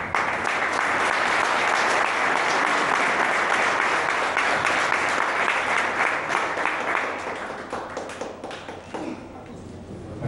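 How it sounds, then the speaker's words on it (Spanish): A sustained, loud wave of audience applause greets an award winner at a ceremony, thick continuous clapping that thins and softens near the end. "invitamos a Angélica María Álvarez Gaviria para que reciba su premio con un fuerte aplauso"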